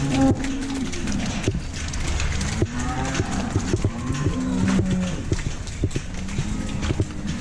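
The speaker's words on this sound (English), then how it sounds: "got both lots of cows on the yard here at the moment" Several cattle moo, low and drawn out, from different spots in a busy yard, with shuffling hooves and scattered clatter throughout.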